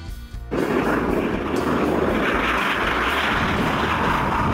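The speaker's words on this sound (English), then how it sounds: "Private jet, personal airplane." A private jet, a small personal airplane, gives a loud, steady roar that starts suddenly after a brief quieter moment and holds a broad, continuous rush to the end.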